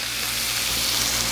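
Bacon sizzling on a Blackstone griddle, a steady, dense frying hiss that stays loud and constant throughout, with no talking over it.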